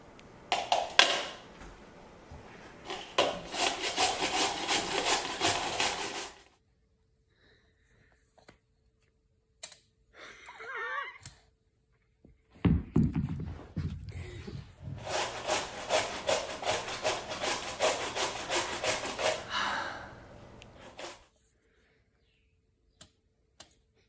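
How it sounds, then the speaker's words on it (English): Potatoes are grated for latkes on a small hand grater in two long bursts of rapid, rhythmic rasping strokes, separated by quiet gaps with a few knocks and handling sounds. "watch your fingertips when you're grating."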